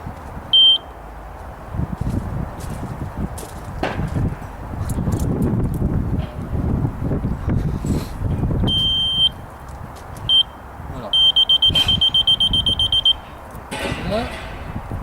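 A laser level receiver sounds intermittent electronic beeps in short bursts and then a longer rapid run of tones, while someone talks nearby with some clattering.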